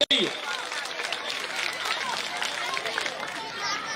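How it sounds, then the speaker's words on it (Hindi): Crowd clapping loudly at an outdoor political rally in India after a call to cheer for the party president, a dense, sustained burst of applause with some background chatter. "इसलिए एक बार जोरदार ताली अध्यक्ष जी के नाम पर आप लोग बजाइए।"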